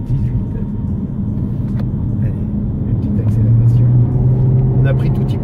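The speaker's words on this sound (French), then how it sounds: "Allez, une petite accélération." Toyota C-HR hybrid 2017 on 18-inch wheels accelerating on a road, a steady low engine and road rumble inside the cabin with a voice talking over it.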